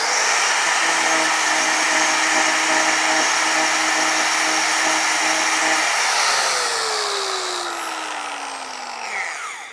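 A power grinder on a woodturning piece gives a loud, steady high whine with a few humming tones, then winds down with falling pitch as it spins to a stop near the end.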